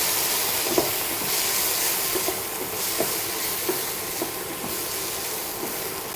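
Grated fresh coconut and chili masala sautéing in a pan for Maharashtrian amti gives a steady, close sizzling hiss with faint, irregular light clicks and no talking.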